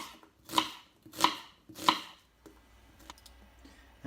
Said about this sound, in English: And then I'm chopping it in half that way, and then long little slices.